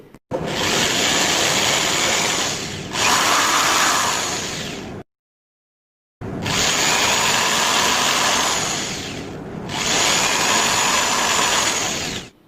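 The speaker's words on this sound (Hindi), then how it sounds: "अब 1 इंटू 2 इंच के जो 2 MDF बोर्ड के टुकड़े हैं उन पे इस प्रकार से ड्रिल मशीन के द्वारा छेद करेंगे" An electric drill machine bores holes into small 1 by 2 inch MDF board pieces, a loud close whirring in two bursts each with a pitch shift, separated by a short silence.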